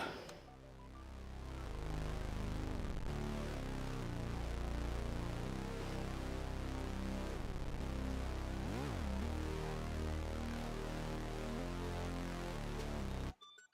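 A continuous bass line plays alone, steady low notes shifting in pitch over a full, dense tone, ending abruptly.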